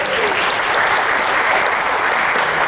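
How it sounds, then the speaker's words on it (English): An audience at a UFO festival talk in Del Rio claps in sustained, dense applause, loud and steady throughout. "so how about a round of applause?"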